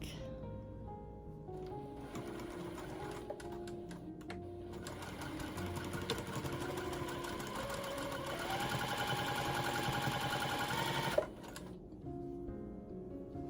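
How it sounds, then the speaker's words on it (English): A sewing machine stitches a dusty rose rag quilt in a long, steady, close run of mechanical whirring, then stops abruptly near the end. "So I'm gonna get sewing and I'll be back."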